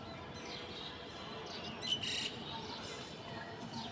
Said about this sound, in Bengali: কবুতরগুলো ফ্লাই করতেছে।